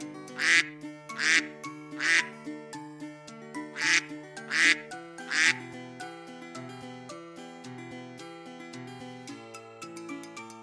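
A toy duck gives a run of six loud, squawky quacks near the start, spaced about a second apart, over steady background music for children.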